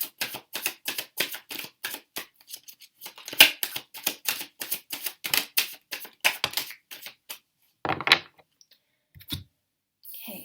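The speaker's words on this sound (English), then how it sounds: "just grabbing the cards again. Let us shuffle once again." Crisp, rapid clicks and riffles of tarot cards being shuffled, in quick bursts with short pauses, close and fairly quiet.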